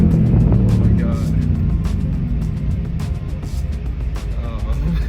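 A Mercedes-AMG GT R's engine pulls hard under acceleration, a loud, dense roar in the cabin that eases slightly as it goes, with speech and excited voices over it.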